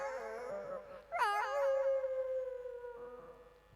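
A male stage performer imitates a happy dog with his voice, rising into a long, wavering howl that slowly fades, heard close and alone.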